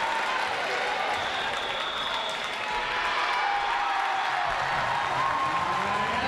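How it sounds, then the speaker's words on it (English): Spectators at a Washington & Lee vs Lynchburg college volleyball match cheer and applaud during a timeout, a fairly faint, continuous crowd roar with scattered clapping heard at a distance throughout. "The crowd is infectious tonight."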